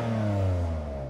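A BMW M4's deep, throaty engine revs up briefly then settles, rumbling loud and close for about a second.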